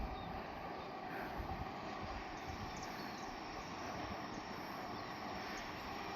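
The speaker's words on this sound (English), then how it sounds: "So there goes the city train under the existing tunnel." A city train runs under an existing tunnel near Dularcha National Park by the Mooloolah River, its steady broadband rumble holding at an even loudness throughout with no clear peaks or talk.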